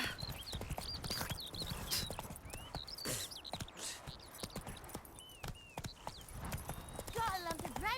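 The horse Roach from The Witcher 3 moves along with quick, rhythmic clip-clop hoofbeats, mixed with birdsong and other ambient game sounds, while a person talks over it.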